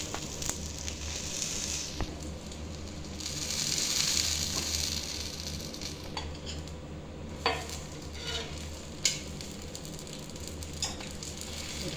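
A mushroom roast dosa is flipped on a hot pan. Steady, close frying sizzle carries a few soft scraping clicks from the spatula.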